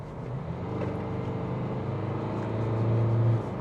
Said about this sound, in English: That is a proper diesel clatter that you get from it